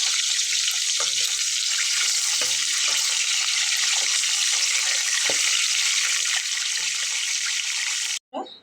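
Pointed gourd (potol) pieces frying in hot oil give a steady, dense sizzle that holds close and loud throughout, with faint stirring knocks underneath before it cuts off at the end.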